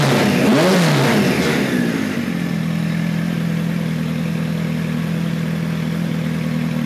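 A 1973 Kawasaki Z1 900 motorcycle running lean and popping, its engine revved up and down once close by, then settling into a steady, rough idle drone.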